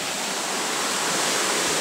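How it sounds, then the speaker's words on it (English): Creek flowing beneath a bridge in Copper Falls State Park, a steady, fairly close rushing hiss of water with no other sounds. "There's the creek going down that way, right there."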